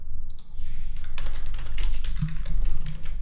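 Steady typing on a computer keyboard, close and fairly loud, a fast run of key taps and clicks with no speech.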